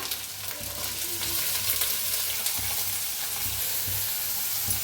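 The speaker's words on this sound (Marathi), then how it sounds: "तर छान असं भाजून घेऊया भाजलाय बघा छान असा" Onion, garlic, green chili and asafoetida fry in a pan with a steady, close sizzle that runs without a break, with light stirring scrapes and no voices.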